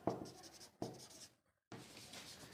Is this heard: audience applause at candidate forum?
no